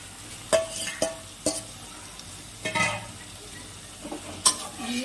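Potatoes are stirred in a pan for a drumstick vegetable curry, with a low sizzle beneath a few sharp scrapes and clinks of the spoon against the pan.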